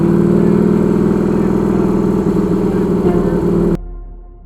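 A custom Triumph chopper motorcycle built as Daryl Dixon's bike rumbles loudly and steadily while being ridden, its engine drone mixed with heavy wind noise, before cutting off suddenly near the end.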